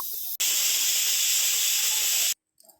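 Steam released from a pressure cooker holding mutton after five whistles, a loud, steady hiss that bursts on, runs for about two seconds and cuts off sharply, followed by a few faint clicks.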